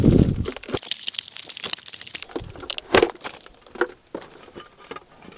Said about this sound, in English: So let's get this unwrapped and see how it fits in the dash.